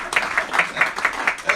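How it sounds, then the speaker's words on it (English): Light clapping from a small audience at an investing seminar for contractors, a handful of hands with bursts of claps over a second and a half, fairly close and modest in volume. "Give him a clap."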